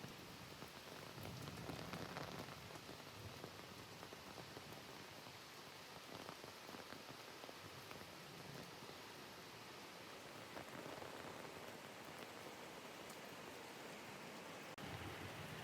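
Steady rain pours down without pause at a coffee plantation where Kopi Luwak coffee is made, a dense hiss of drops on surfaces with no voices.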